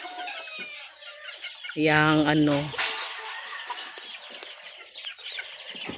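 Chickens cluck and a rooster gives a short loud call partway through, with people talking quietly nearby.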